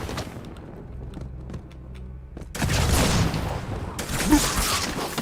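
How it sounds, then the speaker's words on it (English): Covenant carbine fire in Halo 2 breaks out after a quieter start, then sustained loud bursts of game gunfire crackle on, with another surge of shots near the end. "they're using a carbine"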